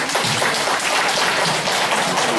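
An audience at a calligraphy and painting exhibition opening claps warmly to welcome a teacher, a dense, loud, continuous round of applause.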